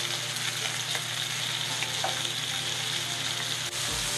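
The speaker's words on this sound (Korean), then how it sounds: "일단 버터랑 카놀라유를 섞어서 구워주고요" Pork ribs searing in a pan of butter and canola oil, a loud, continuous close-up sizzle and crackle that stays steady throughout, with no voices.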